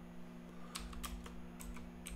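Keystrokes on a computer keyboard as someone types out a traceroute command: a short, uneven burst of soft clicks over a steady low electrical hum.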